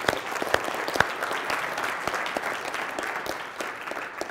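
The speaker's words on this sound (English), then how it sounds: "Everybody give him a round of applause." An audience at a keynote address for a Beta Alpha Psi regional meeting applauds steadily for a graduate standing in the crowd, a dense wash of many hands clapping close and loud with a few sharper individual claps, no voices over it.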